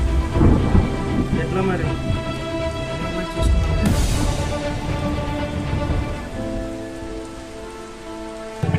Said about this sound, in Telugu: ఫుల్ వర్షం పడుతుందన్న